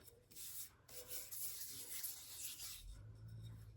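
Chalk being rubbed off a casket-shaped box, a soft dry scrubbing and rasping in uneven strokes, close and fairly quiet, with no voices.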